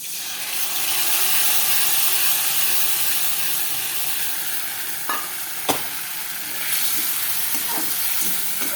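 Potatoes and spice paste fry in hot oil in a home kitchen pan, giving a steady, loud broadband sizzle with a couple of sharp clinks and scrapes of stirring partway through.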